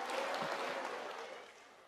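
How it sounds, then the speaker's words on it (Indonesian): A crowd claps at a Balinese community quiz show, the dense applause steady at first and then gradually thinning and fading toward the end. "Mana tepuk tangannya dong?"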